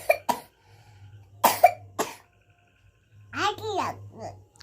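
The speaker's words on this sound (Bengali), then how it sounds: "কাশি হচ্ছে," A child coughs in several short, sharp bursts close by, with brief bits of childlike vocal sounds between the coughs and a faint low hum underneath.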